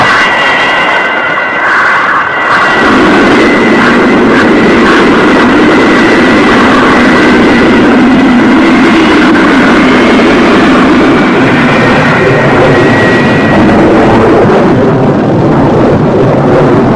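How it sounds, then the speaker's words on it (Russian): Ilyushin Il-62 airliner engines roaring under reverse thrust at Domodedovo, a loud, dense, continuous rumbling roar that swells after a few seconds and holds steady throughout. "Шестидесятитонная машина использует реверс, то есть обратную тягу двигателей."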